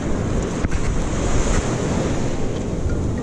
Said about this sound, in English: These waves would behave.